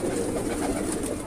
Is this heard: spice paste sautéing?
no